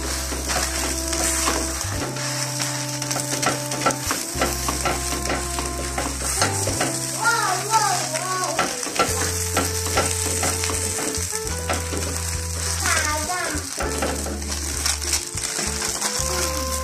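Msemen flatbread fries in a hot pan, giving a continuous sizzle with bursts of crackle and scraping clatter. Rhythmic background music plays throughout and there is no speech.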